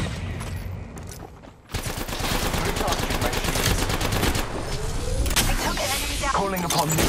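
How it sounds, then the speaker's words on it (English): Dense automatic gunfire erupts in Apex Legends, rapid bursts and overlapping shots rattling loudly and continuously with game effects layered beneath. "Firing. I'm taking damage. Shots fired."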